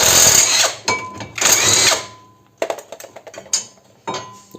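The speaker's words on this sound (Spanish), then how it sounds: "con una 18 aflojamos los dos tornillos del soporte de la pinza" An 18 mm tool loosens the brake caliper bracket bolts on a 2018 Peugeot 5008, with two loud rasping metallic bursts followed by a run of sharp ratcheting clicks, close up.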